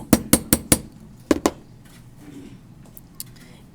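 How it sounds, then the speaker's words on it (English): Hammer flattening a stamped metal washer from the back: four quick sharp metallic taps, then two more after a pause, with a couple of fainter taps later, close and without talking. "I'm going to hammer a little bit from the back just to flatten it out."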